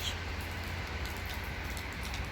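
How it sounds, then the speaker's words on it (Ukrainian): Steady rain falls outside an Ibis hotel in Poland, a continuous even hiss of drops with a low rumble beneath, constant and moderately loud with no talking. "Це ж треба так приїхати і цілий день дощ."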